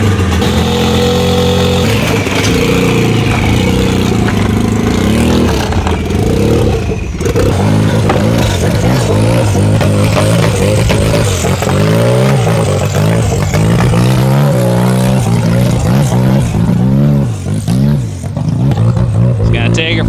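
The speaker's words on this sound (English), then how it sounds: "Got a little bit of a lumpy idle." A car engine with a lumpy, uneven idle blips into revs at a radar run event, loud and close throughout, its burbling note rising and falling with several throttle stabs while people talk in the background.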